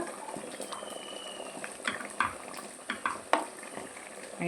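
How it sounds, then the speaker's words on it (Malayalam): Chicken curry bubbling at a boil while being stirred, a soft steady simmering hiss with a few louder scraping stir strokes near the end, close and alone. "കറി നന്നായി തിളയ്ക്കുന്നുണ്ട് നന്നായി ഇളക്കി കൊടുക്കുക"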